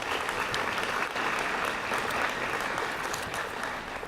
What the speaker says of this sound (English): big round of applause for those folks.